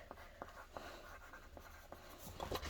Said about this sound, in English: And I'm going to write